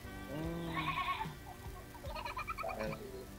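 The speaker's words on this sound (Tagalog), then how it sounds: "May kambing ako narinig." A goat bleats twice, wavering cries close by, with a short gap between them and no talking.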